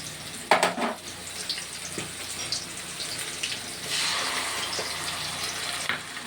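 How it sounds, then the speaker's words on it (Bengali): Ginger and garlic fry in oil in a pan, a close crackling sizzle with a sharp burst near the start and a brief louder surge midway, with occasional scraping stirs. "আদা রসুনটাকে কাঁচা গন্ধ পর্যন্ত ভাজা ভাজা করে নেব"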